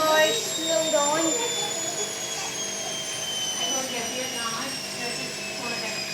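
An empty Hoover 8 kg washing machine spins its drum at 800 RPM in service test mode. It gives a steady motor whine with tones that shift as the spin winds down, and a voice talks faintly over it.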